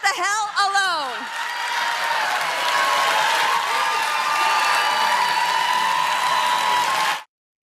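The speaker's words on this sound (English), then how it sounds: "there was an awkward pause between her turn for the applause before the applause finally started" Delayed applause from a political audience after a heated anti-welfare, anti-vaccine-mandate remark in Congress; voices and shouts come first, then steady, loud crowd clapping with cheering runs unbroken for several seconds before stopping abruptly.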